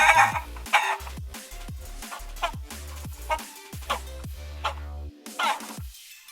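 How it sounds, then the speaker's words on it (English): Clucking chicken sounds, AI-generated and set into a song cover, repeat in a choppy rhythmic pattern of short clucks and squawks over a beat, fairly faint. "We only got this tiny part with some chicken sounds."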